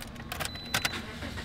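A wrecked Toyota car engine cranking and starting, a short burst of mechanical whirring and clattering with a faint jangle, close and moderately loud, no voices.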